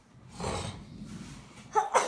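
A single sneeze bursts out near the end, after a stretch of soft breathy noise close by.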